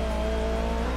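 Engine of a fully tuned S1-class car in Forza Horizon 5, a video game, holds a loud, steady low drone with a faint hiss on top, heard briefly and alone.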